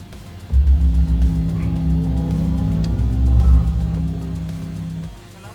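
A Hummer EV electric car in crab walk mode gives off a deep, loud, steady hum and rumble that starts abruptly, holds for several seconds, swells once, then cuts off.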